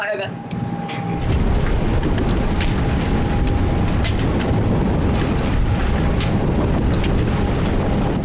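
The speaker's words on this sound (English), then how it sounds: "We're having a motor sail this morning." A sailboat motor sailing out toward the outer reef, engine running steadily under loud, constant wind buffeting and water rush, with a faint steady hum throughout.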